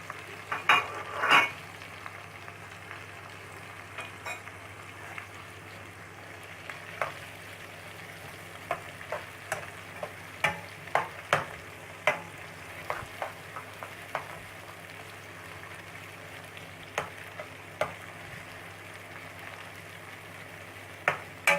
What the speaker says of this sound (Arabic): وباستمرار نقلب عشان البصل يقرمش معانا.